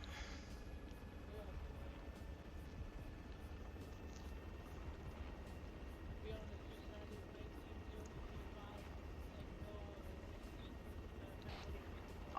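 Helicopter flying in a military training game on Malden: a faint, continuous rotor drone and engine hum, steady from start to finish, with voices talking over it.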